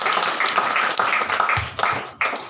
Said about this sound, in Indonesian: Ayo tepuk tangan dulu buat